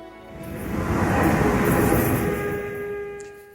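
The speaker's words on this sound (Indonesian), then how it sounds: "Sekarang kita punya MRT." A Jakarta MRT subway train rolls past, its broad rumble swelling to a peak midway and easing off, with steady high tonal whines from the motors over the noise.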